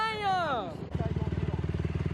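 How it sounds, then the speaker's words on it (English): Dirt bike doing burnouts, an engine revving with a falling whine that drops into a rapid, pulsing low putter, close and fairly loud. "God, he's doing burnouts?"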